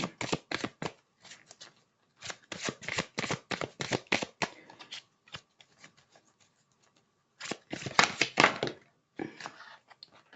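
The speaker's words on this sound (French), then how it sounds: "Alors, on va prendre une seule carte pour les Capricornes." Tarot cards being shuffled and drawn, bursts of crisp riffling and flicking close by, separated by short pauses and a longer quiet gap, with no talking.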